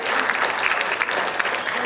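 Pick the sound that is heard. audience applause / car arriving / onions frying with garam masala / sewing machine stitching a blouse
audience applause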